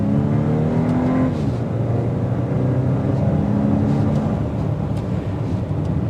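A 2024 VW Atlas Cross Sport with its turbocharged four-cylinder engine accelerates, a steady, fairly loud engine drone rising in pitch through the gears, heard from inside the vehicle with continuous road noise.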